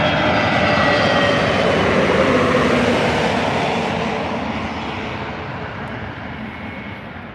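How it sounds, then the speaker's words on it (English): An EasyJet airliner comes in to land at Manchester Airport, its loud, steady jet engine roar filling the air close by and then fading slowly as it passes, with no voices. "we've got one coming in now. EasyJet A380."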